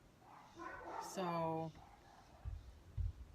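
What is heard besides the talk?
dogs barking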